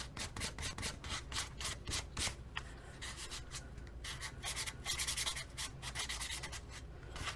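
Sandpaper is rubbed across a used guitar to smooth it, in quick, rhythmic back-and-forth strokes, close and clear with no voices.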